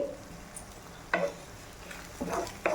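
Onion pieces fry slowly on a medium flame for a village-style small fish curry, with a soft steady sizzle broken by a few brief scraping stirs of a spatula in the pan.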